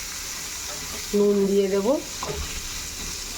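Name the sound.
frying chopped onion and potato in a pan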